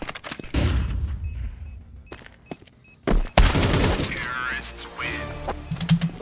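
A shooter video game battle: a flashbang grenade and bursts of gunfire pop and boom in quick irregular clusters, with a heavy blast near the middle, loud and close over game sounds.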